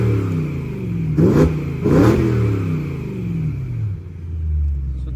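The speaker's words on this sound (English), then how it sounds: "we're gonna give it a couple of revs so you guys can hear it revving" A BMW E92 M3 V8 fitted with a Megan Racing Supremo exhaust, stock mid pipe and axle back, idles warm then gets two sharp blips of the throttle, each a quick rising rev falling back to a steady, fairly quiet burble, close by.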